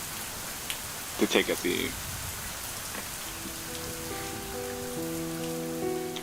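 Steady rain patters on pavement outdoors, a constant close wash of drops running throughout, with a few brief louder thumps early on and a person speaking briefly over it.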